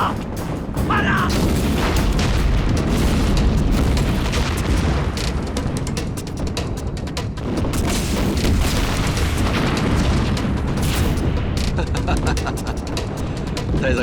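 Aerial bombing in a wartime drama rumbles with heavy, continuous explosions and booming blasts, loud and close throughout, while people shout in the background.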